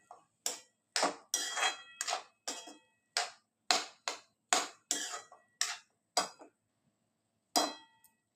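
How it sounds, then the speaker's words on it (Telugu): A metal spoon clinks and taps against a pot as salted drumstick and potato curry is stirred, giving about a dozen sharp, fairly regular knocks at close range with no voices. "బాగా మిక్స్ చేసుకుని మూత పెట్టుకోవాలి."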